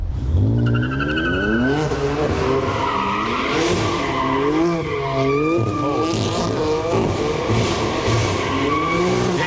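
Car tires skid as the car spins, giving a loud, sustained, wavering squeal with rising and falling pitch over engine noise, continuous throughout.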